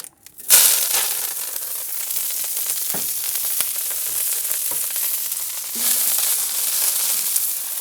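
Herbs dropped into hot olive oil in a paella pan set off a loud, steady sizzle that runs throughout, with a brief stirring scrape and a fresh surge of crackling toward the end.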